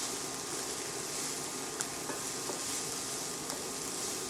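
Onions sauté in a pan for sajji shrimp, a steady soft sizzle running throughout with a few faint utensil taps, quiet and close, with no talking.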